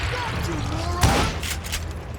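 Gunfire in the Western shooter game Call of Juarez Gunslinger: a sharp loud shot bursts out midway, with a shouted voice heard around it.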